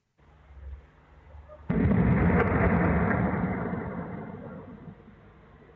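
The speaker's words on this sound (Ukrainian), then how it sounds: "Ну, ось такий потужний вибух у Курську." A powerful explosion in Kursk booms suddenly after a low rumble, its roar staying loud and then slowly fading over several seconds.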